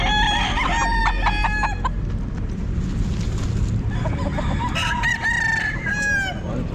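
Roosters crow repeatedly at a busy pet market, loud nearby calls in two bursts, first at the start and again near the end, over a constant crowd din with clucking between.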